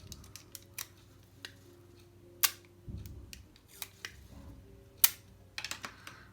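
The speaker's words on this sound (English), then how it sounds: "So now that this is all folded, we can go ahead and put tape on all the ends." Tape pulled and pressed onto the folded ends of a paper exploding box, heard as scattered sharp crackles, tears and taps close by, with quiet gaps between them and no talk.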